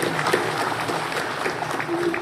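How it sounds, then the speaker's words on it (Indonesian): A gathering at a KPPS poll-worker inauguration in Ngronggo breaks into dense, steady applause, with a few voices and crowd murmur mixed into the clapping. "Tepuk tangan untuk kita semua"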